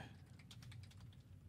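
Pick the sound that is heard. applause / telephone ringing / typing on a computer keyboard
typing on a computer keyboard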